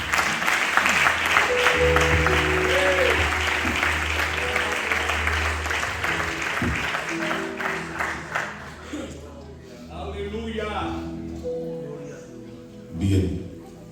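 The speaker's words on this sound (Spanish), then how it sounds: "Fuertes aplausos para él." A church congregation breaks into strong applause after a prayer, loud sustained clapping under voices and music that tapers off into talk and a few lingering claps.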